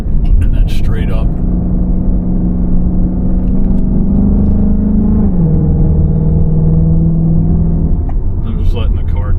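A car engine hums steadily on a steep, winding climb up Highway 215 North toward the Blue Ridge Parkway, its low, even drone holding close for the whole stretch with only a slight shift in pitch near the end.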